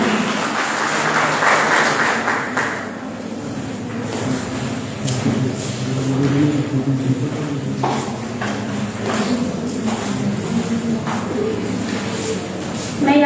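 Audience clapping welcomes Dr. Deepakshi to the stage at an Uttarakhand Foundation Day programme, a steady, dense patter of many hands that holds at an even level for the whole stretch, with faint voices underneath.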